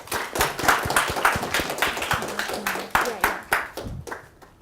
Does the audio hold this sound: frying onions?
no